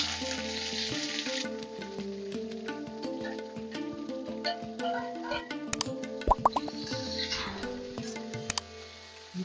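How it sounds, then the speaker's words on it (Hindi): Chopped onions hit hot oil in a pot with whole spices like black cardamom and cloves for a jackfruit curry, giving a steady loud sizzle throughout with a few sharp plops and crackles near the end. "प्याज डाल रहे हैं"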